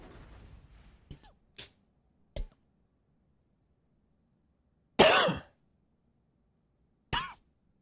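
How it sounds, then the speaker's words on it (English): Several separate coughs and throat clearings from one person, a short cluster early on followed by isolated louder bursts with silence between, close and dry. "Sorry for the coughing."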